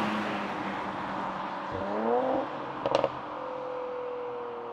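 A Mercedes C43 AMG V6 engine and exhaust hum at a steady level, then rise in pitch as the revs climb, with a short sharp burst of crackles near the peak before settling back to a smooth drone.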